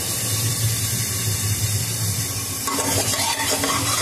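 Ginger, garlic and tomato paste sautéing in a pan for a mutton dish, a steady loud sizzle and hiss with stirring scrapes, the frying growing brighter partway through.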